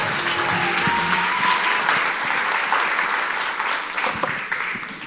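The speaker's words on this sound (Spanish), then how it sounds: "Damos un fuerte aplauso a la palabra de Dios." Audience at a church session applauding the word of God, with a sustained crowd of clapping hands that stays strong for several seconds and then slightly thins toward the end.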